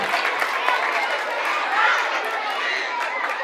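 Young schoolchildren's audience at a Christmas concert, a continuous wash of clapping and excited crowd chatter filling the room, fairly loud and steady throughout.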